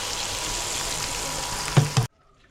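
Climbing perch and tilapia fry in a pan of hot oil with a constant loud sizzle, two sharp clatters near the end before it cuts to near silence.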